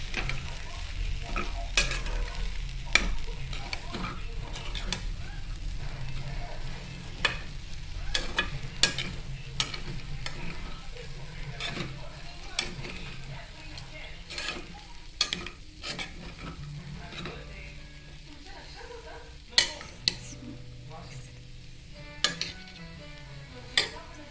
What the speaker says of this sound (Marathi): परत ढवळून घेऊया आपण ते